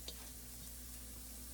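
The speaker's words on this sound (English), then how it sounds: "You can hear it sizzling." Ground meat sizzling in a pan for Italian Bolognese, a steady, soft frying hiss with faint stirring, heard close and alone with no talking.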